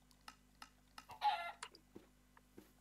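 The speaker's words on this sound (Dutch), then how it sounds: "Hallo, Kip. Goed dat je even zegt dat je er bent." A Minecraft chicken gives a series of short, soft clucks spaced through a quiet scene, with one longer, louder squawk in the middle, over a faint low hum.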